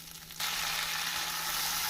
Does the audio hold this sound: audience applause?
no